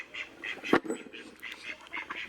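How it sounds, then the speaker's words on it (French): Farm geese honk and call repeatedly in a rhythmic series of nasal cries, close and fairly loud, with one sharper call standing out partway through. "Et là, on va aller voir mes oies."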